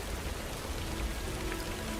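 Steady rain falling on a city street at dusk, a dense even hiss of drops with no break, close and fairly loud, and no voices.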